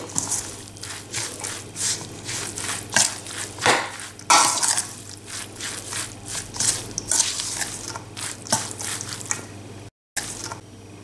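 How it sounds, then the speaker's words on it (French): Spoon stirring tabbouleh in a bowl, close and steady, with a rapid run of wet, squishy, clicking strokes throughout. "Je mélange mon taboulé."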